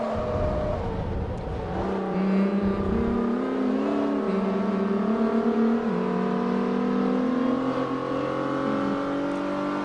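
A race car in Forza Motorsport 3 at Circuit de Catalunya revs steadily and loudly, its engine pitch climbing and stepping through gear changes across the whole stretch, with no voices over it.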